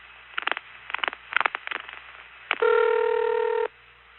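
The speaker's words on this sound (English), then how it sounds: "we immediately heard the long series of pulsing before the number rang." Long-distance telephone pulsing on a line to a 656 number through an NX1 switching office: clustered bursts of short tone pulses in quick groups, then a steady, loud multi-tone signal holding for about a second before cutting off.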